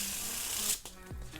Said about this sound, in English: That is the perfect Faro shuffle.